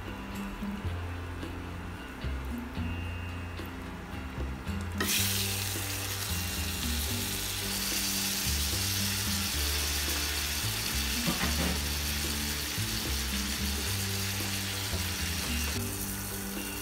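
Fish frying in a pan with garlic for a fish butter dish gives a dense, steady sizzle close up that grows noticeably louder after the first few seconds and continues without a break.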